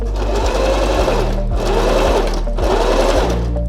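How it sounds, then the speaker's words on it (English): Sewing machine stitching a wig closure, running in steady continuous bursts with brief pauses, loud and close with no talking. "So I'm just going to stitch all the way to where my finger was holding."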